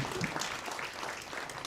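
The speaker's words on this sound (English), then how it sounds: "You can applaud him." Audience at a women's blitz chess championship ceremony clapping briefly for the Monaco chess federation president, a short burst of mixed claps in a hall.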